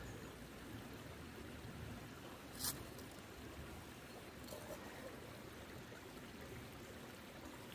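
A nearby river flows in a quiet outdoor setting, a faint, steady rushing wash with a couple of brief clinks over it.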